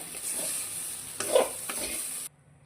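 Soft sizzling in a pan with a few scraping stirs, quiet and close, ending abruptly.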